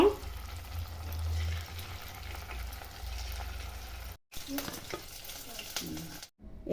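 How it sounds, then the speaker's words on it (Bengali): Chicken pieces fry in hot oil in a pan, a steady close sizzle and crackle running for several seconds, with two brief silent gaps where the sound cuts out completely. "এরকম করে বাকি চিকেনগুলো ভেজে নিব।"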